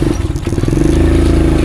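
A motorcycle engine idles with a steady, throbbing low rumble, close by and fairly loud, with a brief rattling clatter near the start.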